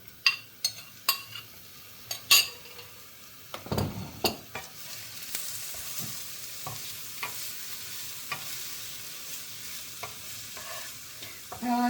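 Ginger frying for a shrimp, garlic and ginger sauce, with sharp metallic stirring clinks and scrapes coming thick and fast at first, then easing into a continuous close sizzle with occasional strokes, no talking.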